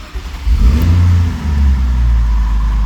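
A car engine cranks and fires up, then revs hard with a loud low roar before dropping back and holding a steady, rumbling idle close by, with no talking.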